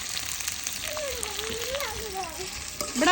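Onions sizzling in hot oil as a tadka for an okra (bhindi) curry, a steady bright frying hiss throughout with a faint tonal whine drifting above it and a louder burst at the very end.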